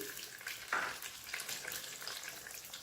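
Water bubbles and sizzles steadily in a cooking pot of zarda, the sweet Mughlai rice dish, with a continuous close hiss and occasional small pops.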